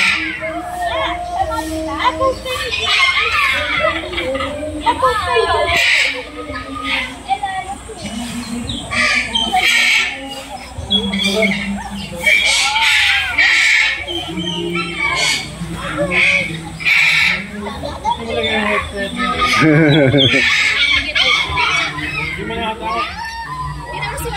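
Birds squawk and chatter busily in an enclosure, with children's voices and talk mixed throughout the busy, continuous scene.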